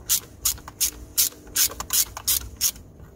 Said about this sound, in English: we're using a T30 bit to undo these two bolts